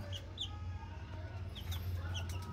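Twelve-day-old Miner blue x McLean gamefowl chicks scuffle and fight, giving short, high peeps and chirps scattered over a low background hum.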